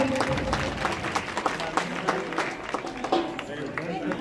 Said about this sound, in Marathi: चला टाळ्या वाजत राहिल्या पाहिजेत.